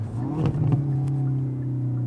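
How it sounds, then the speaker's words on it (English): A 2019 Hyundai Veloster N's engine blips up briefly as the driver rev-matches a manual downshift, then settles into a steady mid-pitched drone with a low rumble, close and loud. "I'm rev matching the car, by the way"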